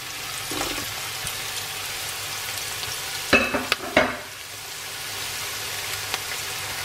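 Pancetta frying in oil in a pan for a soffritto gives a steady, close sizzle, broken midway by a short cluster of sharp clatters before settling back into a even hiss. No one speaks.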